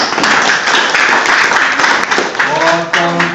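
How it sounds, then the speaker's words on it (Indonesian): Applause from guests at a 57th birthday thanksgiving gathering for a regional office head in Gorontalo, a dense steady clatter of many hands, loud and close, tapering near the end as a voice and tonal sounds come in. "tepuk tangan untuk kita semua"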